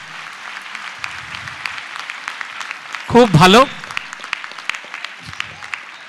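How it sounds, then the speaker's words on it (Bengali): Applause from an audience at a students' drama performance of 'Chandragupta' at an annual exhibition, a steady patter of clapping throughout, with a short spoken phrase and a brief burst of other sound in the middle. "বিশেষত আশিস দা এবং তার এই দলের জন্য একটা জোরে হাততালির জন্য বলছি"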